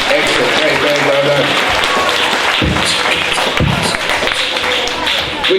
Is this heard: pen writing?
no